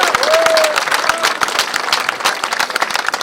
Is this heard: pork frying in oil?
no